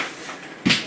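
A drawer is pushed shut with a single sharp knock near the end, following a stretch of soft low handling noise at a desk during a 3D printer unboxing.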